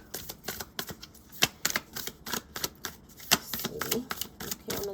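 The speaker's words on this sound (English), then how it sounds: "I'm going to do the shuffle 2 more times." Tarot cards being shuffled, a rapid run of crisp riffling clicks and flutters with sharper snaps at irregular intervals, close and fairly loud with no talking over them.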